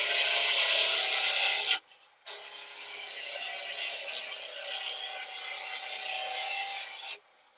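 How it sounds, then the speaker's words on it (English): A woodturning tool edge is honed with a diamond sharpener in close, steady rasping strokes, a brief pause after the first pass, then a longer continuous rubbing run that stops abruptly. "Just going to touch that edge up with the diamond."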